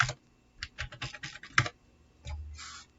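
Keys clatter on a computer keyboard as a password is entered, with bursts of quick close clicks separated by short pauses and no voices.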